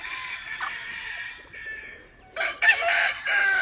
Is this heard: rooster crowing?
yes